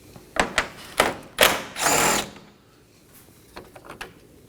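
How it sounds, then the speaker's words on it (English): A 10mm headlight bolt comes off a Nissan Maxima in a few close, sharp bursts of tool noise, followed by a longer whirring run and then quieter scattered clicks and rattles. "Now to the other corner of the headlight to remove our last bolt."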